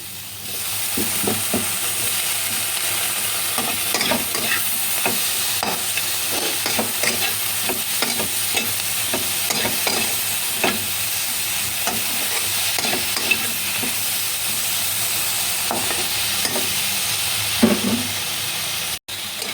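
Paneer is stir-fried with onion and capsicum, giving a constant loud sizzle with repeated spatula scrapes and tosses at an irregular rhythm throughout, close up and without talk.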